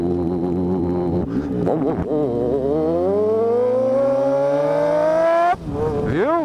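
A Yamaha XJ6 motorcycle exhaust runs loud and close, holding a low idle before revving up in a long rising roar, then dropping back; a voice briefly speaks.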